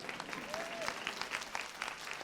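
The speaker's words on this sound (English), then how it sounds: "Yeah, you can clap for her" Scattered clapping from a leadership conference audience, moderate and steady, with a faint whistle or voice rising briefly in the middle.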